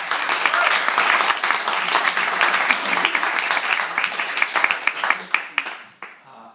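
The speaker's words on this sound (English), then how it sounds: "how about one more round of applause for Dezi and Sylvia" An audience claps in dense, lively applause that thins into scattered individual claps and dies away at the end.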